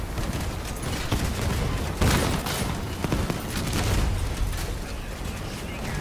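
Dense, continuous gunfire in a video game battle, rapid overlapping shots and occasional booming blasts forming a loud, chaotic fusillade throughout.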